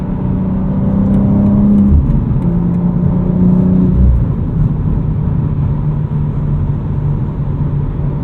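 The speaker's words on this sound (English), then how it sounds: "There's a little bit of road and tire noise in NVH at speed" Steady road and tire rumble at speed in a 2025 BMW M2 with a 6-speed manual, a low engine hum underneath, continuous and fairly loud, no talking.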